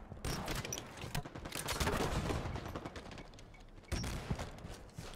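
Grenade launcher in the video game Halo 5, rapid bursts of firing and booming detonations in dense multiplayer combat, loud and continuous with a sharp fresh blast near the end, no talk.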